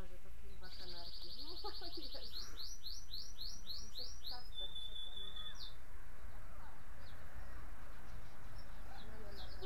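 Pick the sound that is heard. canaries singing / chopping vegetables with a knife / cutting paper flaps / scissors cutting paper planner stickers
canaries singing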